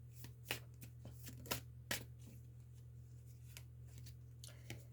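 Tarot cards are shuffled by hand in quick, soft riffling bursts with a few sharper slaps, close and quiet over a steady low electrical hum.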